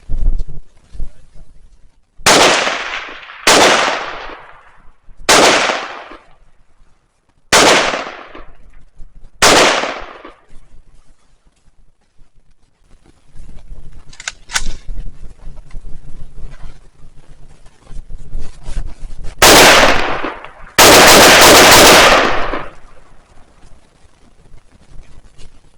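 AK rifle firing during shooting drills: five sharp, loud shots spaced about a second apart, a pause with quieter handling noise, then two more heavy blasts close together near the end.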